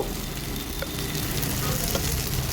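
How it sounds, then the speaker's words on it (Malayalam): Vegetables frying in a pan with a steady, dense sizzle that holds even throughout, close and loud with no talk. "നന്നായിട്ട് മൂത്ത് വരട്ടെ"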